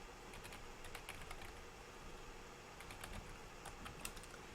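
Computer keyboard keys tapped in quick, irregular bursts while a web page is coded, the light clicks close and fairly quiet over a faint steady hiss, with no voice.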